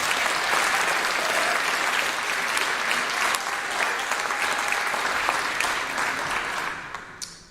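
An audience at a high school class of 2021 commencement ceremony claps in sustained, dense applause that fills the room, holding steady before tapering off near the end, with no speech over it.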